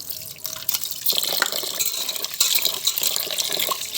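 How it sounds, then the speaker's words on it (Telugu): Moong dal lentils are rinsed and drained in water, giving close, busy splashing and trickling with scattered drips and small gushes throughout. "కడిగి ఇలా 2-3 సార్లు కడిగి దాన్ని కూడా వడబోసుకుని"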